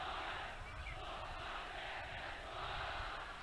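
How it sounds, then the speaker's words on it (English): A Royal College crowd cheering and roaring at a school football match for the Dr. R. L. Hayman Trophy, a dense, steady wash of many voices from the stands. "now you can see the Royal crowd have found their voice"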